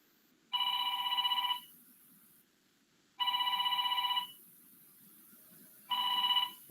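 A mobile phone ringtone rings in three loud, steady bursts of about a second each, separated by quiet gaps, with faint room noise between rings and no talking.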